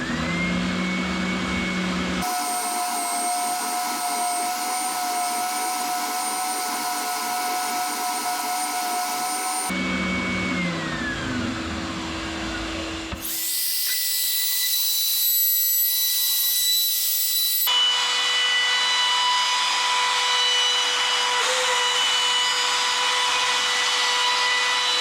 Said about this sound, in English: let's break out the spindle sander